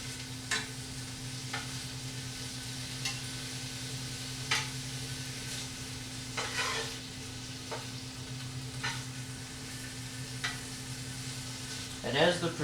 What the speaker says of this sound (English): as the prosciutto cooks and the fat renders out, it's going to add more oil and more flavor to the dish